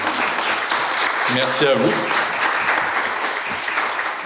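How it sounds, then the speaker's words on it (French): An audience at a ceremony applauds three art presenters with loud, continuous clapping from many hands, while a voice briefly speaks over the applause partway through. "une bonne main d'applaudissements à nos 3 diffuseurs"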